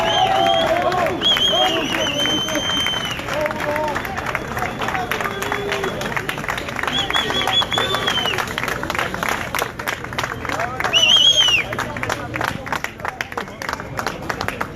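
Street protesters applaud amid a crowd at a strikers' action on January 2, a steady dense patter of clapping with voices and shouting mixed in, swelling briefly near the end.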